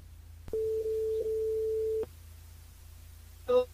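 A telephone line tone sounds while a caller is being called back, a single steady electronic tone lasting about a second and a half, followed after a short pause by a brief burst of distorted line noise.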